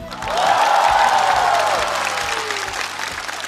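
A studio audience at a comedy roast show gives warm, sustained applause. The steady clapping runs over a thumping music beat and a few rising whoops.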